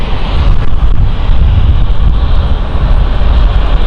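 A City Flyer airliner departing London City Airport, bound for Frankfurt, gives a steady, loud, broadband jet engine roar that holds continuously throughout, with some wind buffeting on the microphone.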